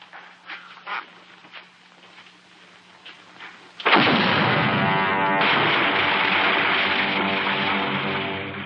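Artillery blasting a mountain in The Pied Piper of Hamelin (1957): after some quieter sounds, a sudden loud booming roar breaks in and keeps rumbling heavily for several seconds.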